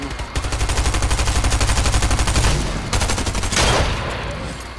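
Rapid automatic gunfire from a battle royale shooter video game, with fast, steady bursts of shots crackling loudly and continuously, a short pause, then another sustained volley that tapers off.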